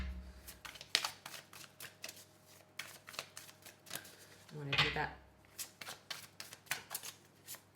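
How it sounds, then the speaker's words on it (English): Tarot cards are shuffled by hand in quick, close riffles and soft flicks that come in uneven bursts, with a brief spoken line in the middle. "Let's just shuffle a little bit more."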